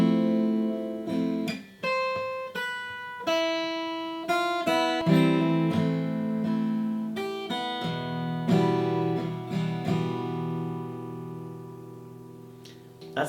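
Solo guitar plays the intro to a song, a gentle fingerpicked line of plucked notes and ringing chords with sustained bass, clear and close with no talking.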